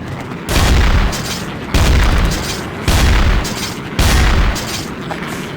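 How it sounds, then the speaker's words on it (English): Four loud, evenly spaced shotgun blasts from the Counter-Strike shotgun in Garry's Mod, each a heavy booming report with a short decaying tail, about one second apart. "Here's the shotgun."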